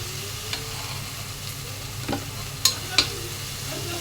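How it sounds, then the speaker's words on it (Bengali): Beef and onions sizzle in a pan while being stirred, with a steady frying hiss, a few sharp clinks of a utensil against the pan, and no talking. "মাংসটাকে আমি ভালো করে পেঁয়াজের সাথে কষিয়ে নিছি"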